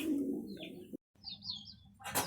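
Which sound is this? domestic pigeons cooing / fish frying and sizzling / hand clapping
domestic pigeons cooing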